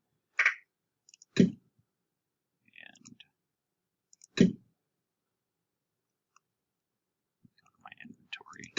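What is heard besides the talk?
computer mouse clicking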